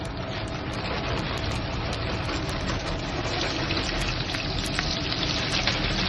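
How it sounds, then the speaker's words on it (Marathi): Onion sautéing in oil with mustard seeds and cumin for a mixed vegetable dish, a steady, dense sizzle that continues without a break, moderately loud and close, with no talk. "कांदा चांगला परतायचा."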